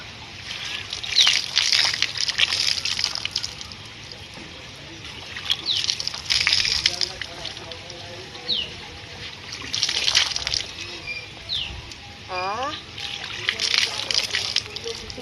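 Water being poured over someone during a bath, arriving in several separate splashing bursts with trickles between them, moderately close, while people talk in between the pours.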